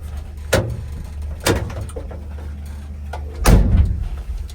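A few sharp thuds of a 1962 Chevy pickup's door being shut, three knocks spaced over a few seconds, the last one heaviest, over a low idling hum.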